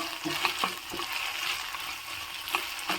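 Okra sizzles steadily in a hot pan with chana dal, a ladle scraping and clinking through it in irregular strokes, close and moderately loud.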